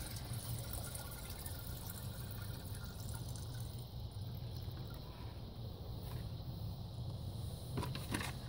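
Alfalfa-steeped water poured from a half-full jug into a garden container, a steady continuous gush and trickle heard fairly close and alone throughout.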